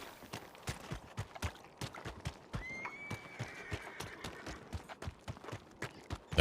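A video game horse whinnies in a long, wavering call amid steady clip-clop hoofbeats on hard ground.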